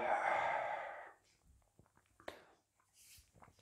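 Controlled breathing during a pilates session: one long, loud, airy exhale drawn from the lower belly, then quiet soft breaths and small rustles of movement.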